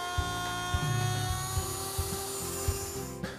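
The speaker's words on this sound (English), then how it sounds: "The easiest way to make this cut is on the router table." A router table cuts a slot into a southern pine shelf with a high, steady motor whine, broken by rhythmic thumps and rubbing as the wood is fed through at close range.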